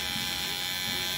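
An electric hair trimmer buzzes steadily and close during a mid skin fade haircut, a continuous high whine throughout with no break.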